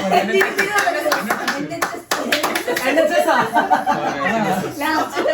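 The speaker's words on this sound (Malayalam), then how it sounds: "കയ്യടിക്കുക, നിങ്ങൾ കയ്യടിക്കാറുണ്ടോ? കയ്യടിക്കുക." Hand clapping among a small group of friends, with rapid bursts of claps mixed with continuous chatter and chuckles throughout.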